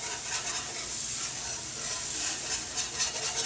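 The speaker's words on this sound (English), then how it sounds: "add a little and start stirring" Gravy being stirred in a pan with half and half added, a continuous soft scraping swirl over a gentle sizzle, close and steady without pauses.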